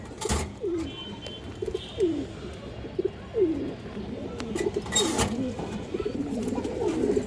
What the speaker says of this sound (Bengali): এই যে দেখেন দর্শক কবুতরগুলো দেখেন